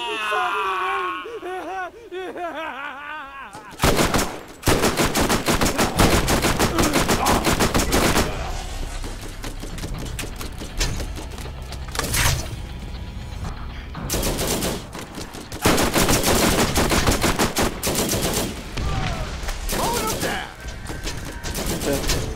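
Rapid gunfire from a weapon in the video game Borderlands, loud bursts of shots repeating in dense stretches across the clip, with brief pauses and a quieter start before the shooting begins.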